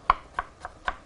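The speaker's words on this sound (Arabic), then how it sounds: "شريحتين بصل صغيرين هقطعهم صغير خالص" Four crisp knife chops on a board as small onions are cut into tiny pieces, evenly spaced, close and distinct with no voices.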